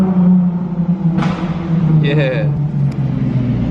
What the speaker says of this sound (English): let's listen to this backfire if Lucy would do it